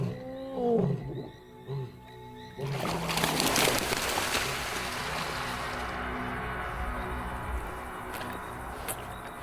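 Lions roar loudly and close in the wild, a low rumbling bellow that starts after a few short grunts and carries on steadily, with a hint of splashing water beneath.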